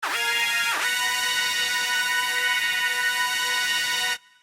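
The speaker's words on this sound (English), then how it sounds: "a bunch of lead synths stacked on top of each other" Several stacked synth leads form a bright, buzzy lead holding a steady distorted tone with two quick pitch swoops at the start, then cut off abruptly.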